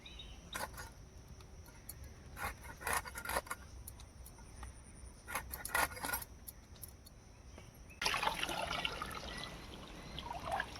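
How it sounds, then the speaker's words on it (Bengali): Boal fish (wallago catfish) pieces being rinsed in water, with intermittent splashes, drips and clinks, and a louder, steadier run of water near the end. "এটা আপাতত ধুয়ে নিচ্ছি"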